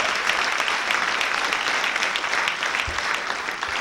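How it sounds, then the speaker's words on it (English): Comedy club audience at a stand-up comedy show clapping hands, a dense, steady burst of applause from many people filling the room throughout. "Clap your hands if you were raised in the church"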